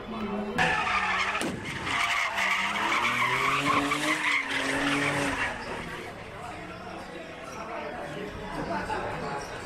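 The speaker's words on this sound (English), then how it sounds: "Crowds cheering as cars spun donuts, with some people hanging out of windows." Cars spin donuts at a nighttime street takeover in Pacoima in the San Fernando Valley, with loud tire squeals and revving engines up close, over cheering and shouting from a crowd.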